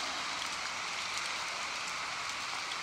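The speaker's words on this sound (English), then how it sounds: "It's still raining, y'all." Steady rain falls outside an open door, a continuous even hiss of drops hitting surfaces with no talking.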